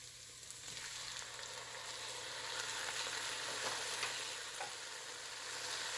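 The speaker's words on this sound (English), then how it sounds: "We're just going to saute this for a couple minutes here. And we are just going to add our kidney pieces to this." Beef kidney pieces sauté in a pan with a faint, even sizzle that keeps up steadily and stays in the background.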